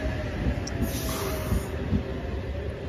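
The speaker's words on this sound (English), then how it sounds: "We now have a ride on service arriving to platform number 2 at Gosford." A four-car H set passenger train rumbles steadily nearby with a constant hiss and low mechanical clatter, rolling slowly alongside platform 2 at Gosford station.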